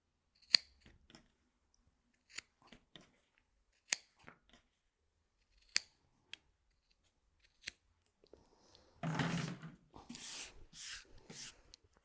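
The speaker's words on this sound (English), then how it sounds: "And then what we do is we snip off the corners." Scissors snipping off the fabric corners of a quilted drinks coaster, several crisp, isolated cuts spaced a second or two apart, followed by soft rustling of fabric being handled.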